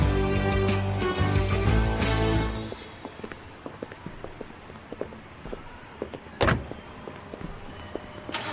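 A car door thuds shut after a loud idling engine cuts out, then quieter clicks and small mechanical knocks follow, with a sharp slam or bang near the end; no one speaks.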